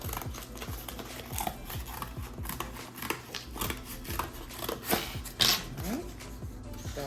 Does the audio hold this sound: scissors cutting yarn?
yes